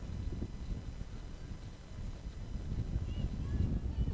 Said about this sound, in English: Really, really windy tonight.